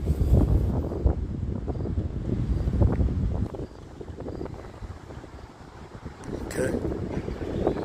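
Strong wind gusts roar across an outdoor microphone, heavy and buffeting for the first few seconds, then easing before picking up again, with a brief spoken word in the middle.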